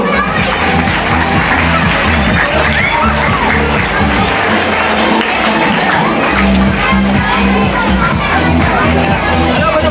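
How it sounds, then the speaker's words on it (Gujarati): A noisy crowd at a prize-giving ceremony for a drawing competition claps and cheers, with children shouting and chattering voices throughout, sustained and loud. "તાળીઓથી વધાવી લઈએ મિત્રો."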